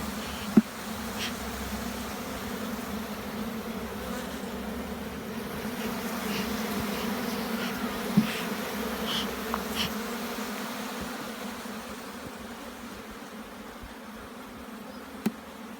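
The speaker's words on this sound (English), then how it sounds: "we're applying more smoke to calm the bees down" Honey bees hum in a steady, dense drone throughout a Jamaican hive inspection, the buzzing close and continuous with a few brief clicks of handling.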